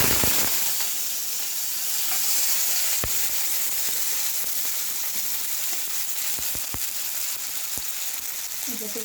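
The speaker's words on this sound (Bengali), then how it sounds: "এটাতে আমি আলুটা যেটা নিয়েছিলাম এটাকে একটু হালকা ফ্রাই করে" Potatoes frying lightly in hot oil in a pan, giving a steady, even sizzle and hiss with a few small pops over nine seconds, no talking.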